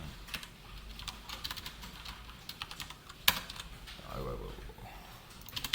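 Close, quiet typing on a computer keyboard while writing Java code, a flurry of irregular key clicks with short pauses and one sharper tap, recorded alone without talk.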